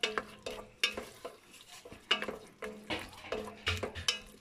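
A spoon stirs thin tomato sauce, made from paste diluted with water, in a pan. Repeated wet scrapes and clinks come in a quick, uneven rhythm, close and clear with no voices.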